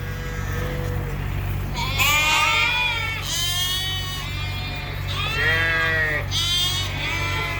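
Several sheep bleat in turn, wavering calls rising and falling over a constant low hum, fairly close and loud.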